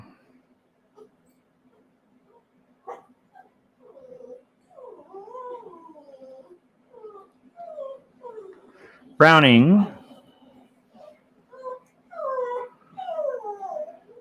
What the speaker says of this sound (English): that dog is really going for it with the noises